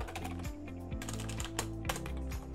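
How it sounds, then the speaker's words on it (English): Rapid keystrokes on a computer keyboard as a search term is entered, a steady run of close, crisp clicks for a few seconds with no voices. "all you do is you go into the search box and type big"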